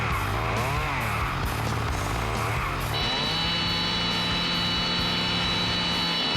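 A circular saw cuts into a safe during a robbery, giving a loud continuous whining roar that rises and shifts in pitch, with a steadier high tone setting in halfway through.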